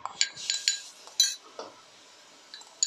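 Squid being mixed with salt and black pepper in a bowl, with bright metallic clinks and taps of a utensil against the dish, several in quick succession, then sparse, close and fairly loud.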